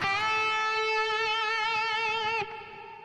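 A short electric guitar lick from a solo, played with distortion and reverb: a few sustained, singing notes with a wavering fast vibrato, ending abruptly into a faint ringing tail.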